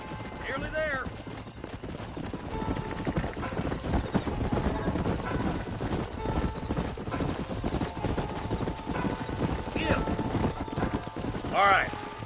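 Horses' hooves clip-clopping steadily in the Western video game Red Dead Redemption, a continuous rhythmic trot under spoken dialogue, with a horse's whinny near the start and again near the end.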